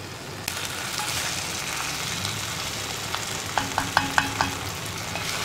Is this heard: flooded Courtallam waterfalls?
no